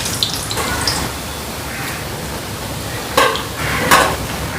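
Pressed sweet mullu murukku dough deep-fries in oil over a medium flame, a continuous close bubbling crackle with a few louder, splashier surges partway through.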